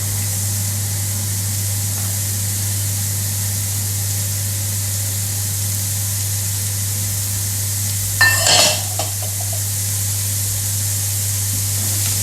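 Onions, carrots and celery fry in a pan for a cottage pie, a steady soft sizzle with a constant low hum underneath, broken near the end by a short burst of stirring or scraping.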